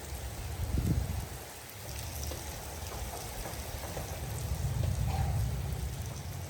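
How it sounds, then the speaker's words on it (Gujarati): Heavy rain pours down during a storm in Patan, Gujarat, a dense, steady hiss of drops on surfaces continuing throughout at moderate level, with a low rumble underneath. "લાઈવ વરસાદ પડે છે."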